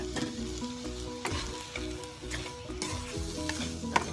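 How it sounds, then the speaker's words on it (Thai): Khua kling, a dry Thai minced-meat stir-fry seasoned with sugar and fish sauce, being stirred in a frying pan: steady sizzling with repeated scraping and clinking of the utensil against the pan, close and alone. "คนเข้าด้วยกันนะคะ"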